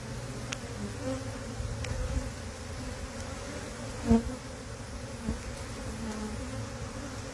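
Honey bees buzz in a continuous close drone as a hive frame is inspected, with a few faint clicks and knocks of handling the frame over the hum.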